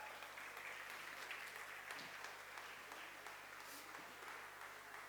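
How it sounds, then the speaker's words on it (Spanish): A church congregation applauds men who bought chocolates and sneakers for the women, a soft, distant patter of clapping that holds steady for about five seconds without any speech. "Denle un aplauso a estos hombres."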